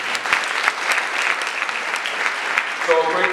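A live audience at a talk claps steadily, a thick and even wash of many hands lasting the whole stretch with no voices over it.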